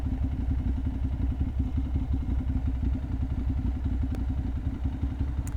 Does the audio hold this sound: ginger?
no